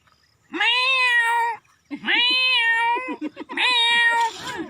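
A voice imitates a cat meowing in a rustic comic routine, three long, loud, wavering meows close to the listener, separated by short breaths, with no other sound around them.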